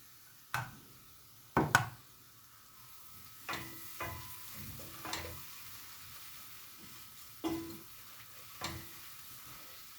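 Onions browning with flour and tomato paste in a pot for flour soup: a faint, low sizzle broken by sporadic sharp clicks and scrapes of stirring, spaced a second or two apart.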